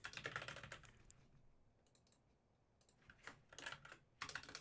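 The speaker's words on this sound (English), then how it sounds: "Gotta quickly type these things in here." Quick, close typing on a computer keyboard comes in bursts of rapid key clicks, with a short quiet pause midway before the clatter resumes.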